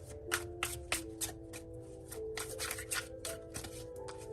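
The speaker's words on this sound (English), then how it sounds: "We're just going to have to shuffle until one pops out" Tarot cards are shuffled close up in quick, irregular riffling bursts, crisp papery flicks repeating over a soft steady background hum, with no talking.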